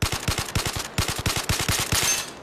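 Automatic rifle fire from Zero Caliber Reloaded, a VR shooter, rattles off in several rapid bursts of close, sharp shots with brief gaps between them, and no voices.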